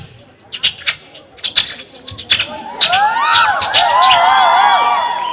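A comedian's voice imitates birds, first with short sharp chirps and squeaks, then a rising flurry of warbling, whistling trills filling the second half.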